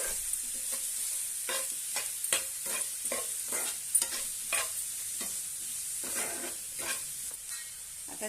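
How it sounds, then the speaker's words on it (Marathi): Brinjal chutney with salt and coriander is stirred in a hot pan. A steady high sizzle runs throughout, with repeated scraping strokes of the spoon close by and no talking. "छानपैकी परतून घेऊया"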